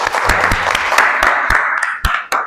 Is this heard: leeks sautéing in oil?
no